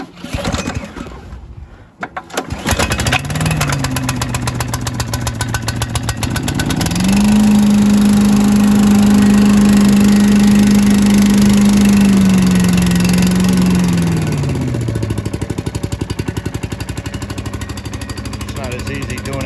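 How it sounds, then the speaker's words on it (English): A Tecumseh small engine on a Cyclone Rake leaf vacuum cold starts with the choke on, catches, and runs steadily close by, its idle rising to a higher, even drone for several seconds before settling back down. "Gonna do a cold start. Choke right there. Give it just a little bit of throttle there"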